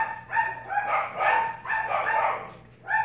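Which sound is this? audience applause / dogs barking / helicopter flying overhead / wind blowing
dogs barking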